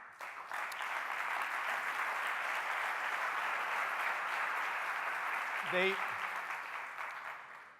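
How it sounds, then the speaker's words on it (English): A conference audience at a startup event in Barcelona gives a big round of applause for the sponsors, sustained dense clapping from a large hall that holds steady for several seconds, with a brief voice or noise near the end. "So please give a big round of applause to all our sponsors."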